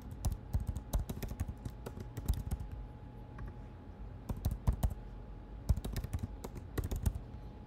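A password being typed on a computer keyboard, rapid close key clicks arriving in quick bursts separated by short pauses, no voices.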